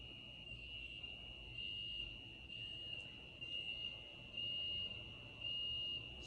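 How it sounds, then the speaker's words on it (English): EMDR bilateral stimulation buzzers hum in a quiet room as a faint, steady high-pitched tone that pulses on and off in an alternating rhythm, with no talk. "So I'm just going to turn them on, show you what that's like."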